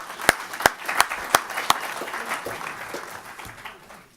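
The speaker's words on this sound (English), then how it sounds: "So now it's the round of applause." Audience at a Big Data London meetup hosted at News UK giving a round of applause: a few sharp claps stand out at first, then a softer, thinning patter of clapping fades out.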